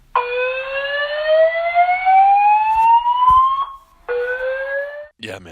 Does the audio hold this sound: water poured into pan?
no